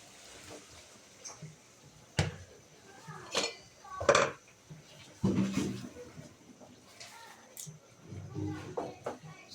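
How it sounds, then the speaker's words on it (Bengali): Pieces of cleaned fish dropped into a cooking pot over earlier-cooked ingredients, with a few clinks and clatters of utensils against the pot, close by, while someone talks through most of it. "যে মাছগুলো আগে কেটে ধুয়ে পরিষ্কার করে রেখেছি তো ওগুলো দিয়ে দিচ্ছি এখন।"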